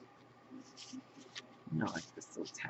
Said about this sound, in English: Love the sound of this onion paper.